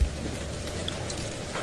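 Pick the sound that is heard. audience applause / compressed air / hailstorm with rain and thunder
hailstorm with rain and thunder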